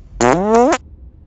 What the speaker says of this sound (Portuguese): o gajo peidou-se